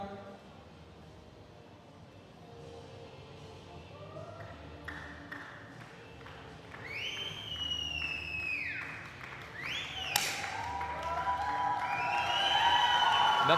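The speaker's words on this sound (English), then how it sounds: "The Indian crowd respond as well, plenty of noise." An Indian crowd at the men's junior 10m air pistol final of the ISSF Junior World Cup in New Delhi breaks into applause, cheers and whistles after a shot, the noise swelling louder toward the end.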